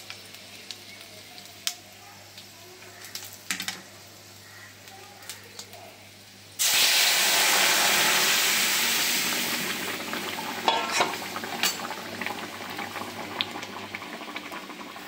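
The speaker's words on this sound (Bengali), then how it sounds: "এই যে তেল হয়ে গেছে, এবার ডালটা ঢেলে দেব" Quiet clicks and kitchen movement, with a voice speaking, give way to a sudden loud, sustained sizzle as dal is poured into hot oil. The hiss slowly eases, with utensil taps over it.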